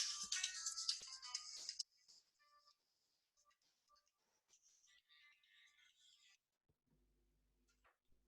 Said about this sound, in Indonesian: sebentar ya, ada telepon